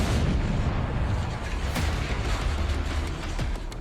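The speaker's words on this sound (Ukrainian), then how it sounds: "Саме цей вибух врятував багатомільйонну столицю" A deep, rumbling blast with dense low-frequency roar that persists throughout, like a distant explosion or artillery fire, with a sharp crack near the middle; a dam being blown up in Kyiv region, Ukraine.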